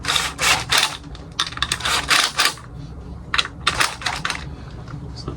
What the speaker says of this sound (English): So just give it a quick tighten up. Snug it up with a Makita.